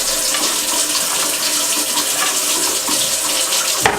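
Water runs steadily from a faucet in a loud, close, continuous hiss and splash, ending with a brief clunk.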